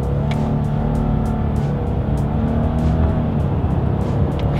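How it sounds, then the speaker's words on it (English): A 2020 Subaru Legacy with a CVT drives under load during a paddle shifter test, its steady engine drone and road rumble continuous and close throughout, with faint higher whooshes recurring over the top. "let's go ahead and test out the paddle shifters and see how quickly they react for us here"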